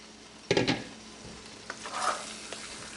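Spinach and potatoes cooking in a pan over low heat without water, heard as a faint sizzle with a loud scrape of stirring near the start and a few lighter clinks afterwards.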